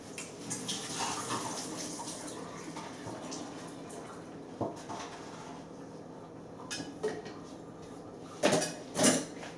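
Soaked nuts for plant-based mozzarella drain in a home kitchen: a steady wash of trickling water runs under scattered clinks of dishes and a few sharper knocks near the end.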